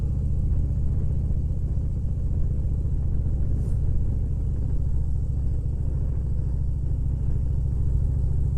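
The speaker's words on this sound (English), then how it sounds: "Guy on a motorcycle." A motorcycle rides past at the Salton Sea, its steady low engine rumble holding at an even loudness throughout, with no talking over it.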